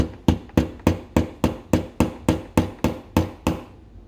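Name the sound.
hammering a gear onto a motor axle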